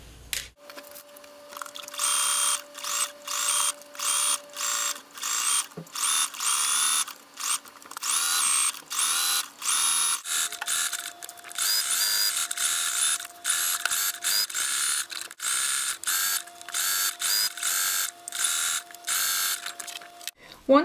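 A sewing machine runs zigzag stitches along swimsuit fabric edges in repeated short bursts with brief pauses between, its motor whirring close and clear while a voice talks over parts of it.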